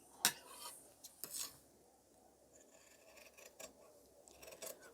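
Scissors cut through the sleeve of a men's shirt fabric in a quiet tailoring room, a few sharp snips and scraping clicks spaced out over a faint hiss.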